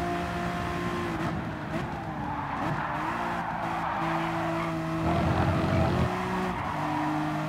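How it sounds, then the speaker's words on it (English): A Lamborghini race car overtakes in the Gran Turismo Sport racing game during an endurance race at Catalunya, with loud, constant engine drones from several cars, shifting tones and gear changes, and tire squeal heard close up without speech. "That Lambo's quick with the slipstream."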